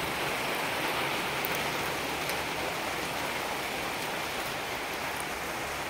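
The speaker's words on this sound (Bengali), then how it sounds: "বাপরে, বৃষ্টি এসে গেছে।" Rain pours down over a small kitchen garden as a dense, unbroken hiss that stays loud and even throughout, with no voices.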